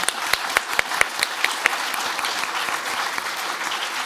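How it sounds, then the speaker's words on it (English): An audience applauds a panel of speakers at a health and peace discussion event, a dense steady round of clapping with a few sharp claps standing out near the start, sustained and fairly loud for the whole stretch. "Could you accompany me with a round of applause for our beautiful,"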